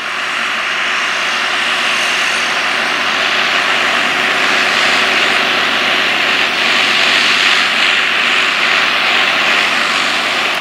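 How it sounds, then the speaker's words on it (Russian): A steady, loud tractor engine drone with broad rumbling noise, continuous and unchanging throughout, as the tractor pulls a plough through a field close by. "Трактор довольно-таки хорошо идет, без напряга."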